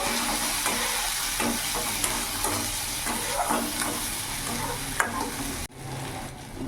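Cumin and chilli powder are stirred into hot oil in a frying pan, a loud continuous sizzle with repeated scraping strokes of a spatula, easing off near the end.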